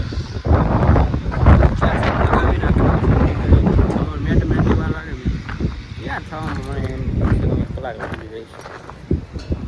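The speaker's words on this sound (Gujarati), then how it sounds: "બહાર પવન મસ્ત આવે છે" Strong outdoor wind buffets the microphone in rough gusts while a person talks throughout.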